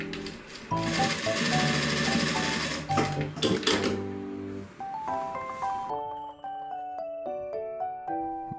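Juki DDL-900C industrial sewing machine stitching without backtack, a fast close mechanical whirring rattle in short runs, then stopping, with beeping tones after it.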